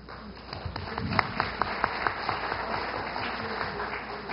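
An audience claps through a Brazilian workplace accident prevention day event, a steady spread of hands at moderate level in a hall, with a constant electronic tone in the background.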